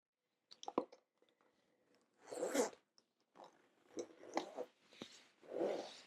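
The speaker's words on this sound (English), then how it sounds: "everything zips up into one nice, neat little bundle" An A5 document case being zipped shut in several short, close zipper pulls with pauses between them, crisp and rasping against an otherwise quiet background.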